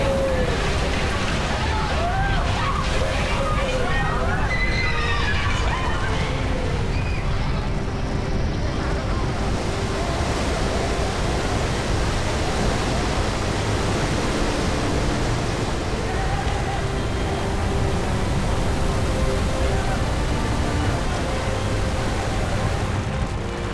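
Tsunami waves from the Indian Ocean surge ashore as a loud, constant roar of churning water that fills the whole stretch, with faint voices buried in the din.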